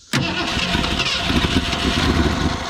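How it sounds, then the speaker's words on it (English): A 1963 Ford Fairlane 500 with a 260 V8 starts right after a click, then runs loud and close with a rough, steady rumble and a few uneven pulses of throttle. "Let's see if she'll crank. Let me pat it just a little bit. Give her a little bit of gas."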